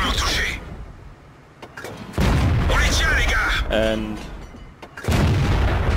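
A tank cannon in World of Tanks fires in heavy booming shots, loud thuds separated by quieter gaps, with someone talking between and over the blasts.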